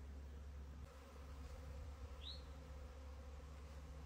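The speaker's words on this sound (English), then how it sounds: "So this swarm will send out scout bees to find a new home." A honey bee swarm gathered outdoors in spring gives a faint, steady buzzing drone that stays even and continuous throughout, with no talk.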